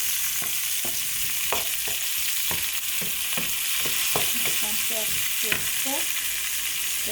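Oil heats and fries in a pan with a steady broad sizzling hiss, punctuated by a series of sharp stirring clicks and scrapes at close range.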